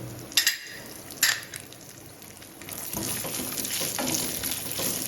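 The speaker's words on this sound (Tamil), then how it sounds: "அதோட நெய்யில் ஃபுல்லாக வறுத்துருவோம்." Almonds, pistachios, cashews and raisins frying in ghee give a steady, close sizzle, broken early by a couple of sharp clinks and stirring scrapes, then a fuller crackle that runs on without any talk.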